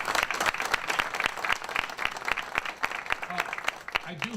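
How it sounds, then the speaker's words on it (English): An audience applauds at a Hispanic Heritage Month kickoff ceremony held at the Buffalo and Erie County Public Library. The clapping is steady and moderately loud, with a voice speaking over it. "Let's give both of them another round of applause."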